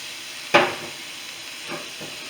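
Spinach sizzles in a pan while being stirred: a sharp scrape-and-hiss burst at the start of the stir, then a soft steady sizzle with a couple of fainter stirring swishes.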